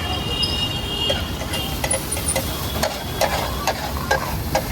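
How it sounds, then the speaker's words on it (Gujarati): Chopped vegetables with green garlic and cumin fry in a pan at a long-running street stall for raw-vegetable sabji bhaji, giving a steady close sizzle broken by frequent clinks and scrapes of stirring. "બધા વેજીટેબલ્સ ફ્રાય થશે હવે"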